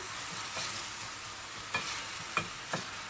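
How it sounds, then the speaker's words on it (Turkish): Onions fry lightly in a pan for an olive-oil eggplant dish, giving a steady soft sizzle with a few sharper scrapes of stirring near the end. "Şimdi soğanımız hafifçe kavruldu."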